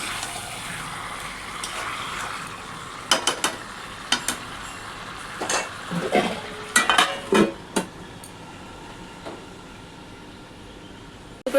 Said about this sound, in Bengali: আলুগুলো দিয়ে ভালো করে নেড়ে তারপরে ঢাকা দিয়ে দেবো